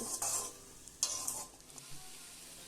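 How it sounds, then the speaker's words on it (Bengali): Water spinach and lentil dumplings are stirred and fried in a pan, giving short bursts of hissing sizzle with scraping strokes of a spatula over a quiet background, with no voices. "শাকের সাথে বড়িগুলোকে নেড়ে চেড়ে নিয়ে মিশিয়ে নিলাম"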